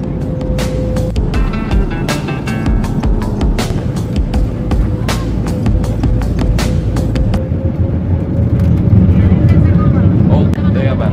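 Airliner on an aborted approach to Madeira airport, a steady loud roar of engine and cabin noise filling the whole clip, with occasional clicks and voices talking beneath it.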